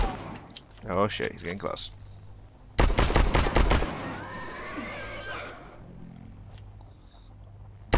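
Rapid bursts of sulfur-bullet gunfire in the survival game StarForge, a loud dense volley in the middle with scattered shots before it, while someone talks over the action.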